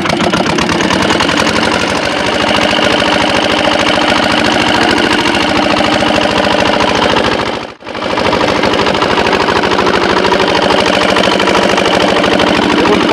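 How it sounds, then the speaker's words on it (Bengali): A boat engine in the Sundarbans runs loud and steady with a dense, rapid mechanical chugging that fills the whole clip, dropping out only for a split second partway through. "ব্যাস, আমাদের ইঞ্জিন স্টার্ট দেওয়া হচ্ছে।"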